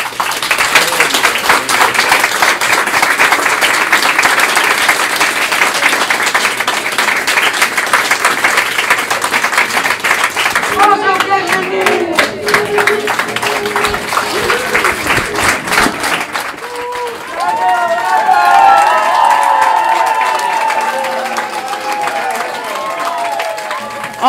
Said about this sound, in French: On va l'accueillir avec une bonne main d'applaudissements.